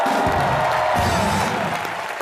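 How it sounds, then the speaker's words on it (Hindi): A studio audience at a Hindi comedy TV show applauds, a dense, loud roar of clapping with light crowd cheering that fades slightly toward the end. "जोरदार तालियां कॉमेडी नाइट्स के लिए"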